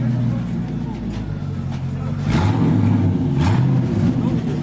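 2004 Pontiac GTO with 5.7 V8, 2.5-inch exhaust and 1-chamber Flowmaster mufflers gives a deep, loud exhaust rumble that swells with a couple of revs, steady throughout.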